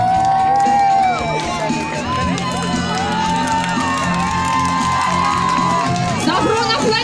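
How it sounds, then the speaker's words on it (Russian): Crowd of children at a summer camp closing ceremony cheering and applauding loudly and steadily for an announced camper, whoops and shouts rising over sustained noise, with music tones running underneath. "Бурные, бурные аплодисменты."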